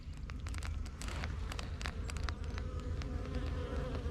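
A cluster of honeybees buzzes continuously while working on their honeycomb near the hive entrance, a dense close hum with faint crackling and no voices.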